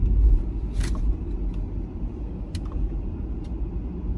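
2022 Mercedes-Benz EQS electric car accelerating in sport mode, heard from inside as a steady low rumble of road and tyre noise with a faint electric whine, a few light clicks on top and no voices.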